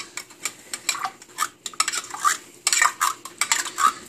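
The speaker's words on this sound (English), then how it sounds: "Just scoop it all up, put it in the pan, mix it all in with the milk," A spoon scrapes and clinks steadily against a pan while leftover soup is mixed into milk, a rhythmic series of close metallic strokes with a light wet swish.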